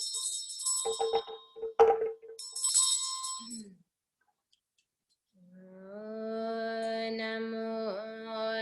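A ritual hand bell rings at the start of a Nolsang practice session, sounding bright, shimmering strokes for a few seconds before a pause and then a sustained chanting voice.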